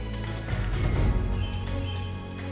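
Small birds calling in the Peruvian jungle, steady insect-like trilling and buzzing with scattered high chirps, a constant dense background throughout.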